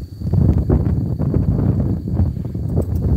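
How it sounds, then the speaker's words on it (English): Wind buffets the microphone outdoors on a fishing trip, a loud continuous low rumble with gusty swells throughout. "It's not hot, got some wind."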